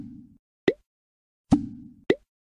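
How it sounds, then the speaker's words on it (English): Salmon pieces drop into a brine bucket in a children's cooking video game: three crisp cartoon plops, evenly spaced and close, with brief soft game tones between them. "Add all the salmon to the bucket."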